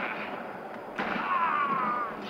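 A gunshot in a shooter video game, a single sharp crack about a second in with a ringing tail, set against a steady game soundscape.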